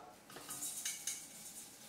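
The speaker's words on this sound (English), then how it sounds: "Whisk this on a double boiler for a good 15 minutes" Egg yolks and sugar whisked over a double boiler, faint rapid metallic clinks and scrapes of a whisk against a bowl in a short quiet burst, no voices.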